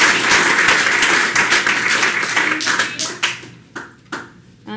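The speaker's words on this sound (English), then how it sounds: "they were clapping through the first name" An audience claps at a city council meeting with dense, close applause. It thins into scattered individual claps that fade out over a few seconds.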